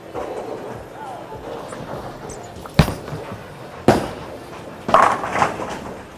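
Urethane bowling ball rolling down a lane and striking pins, a low steady rumble followed by sharp crashing impacts near the end, with other lanes' clatter in the background.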